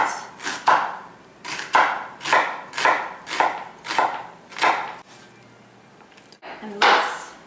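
A knife chopping onions on a cutting board in a home kitchen, a steady run of about a dozen crisp, close chops in a regular rhythm, with a short pause before a final few cuts.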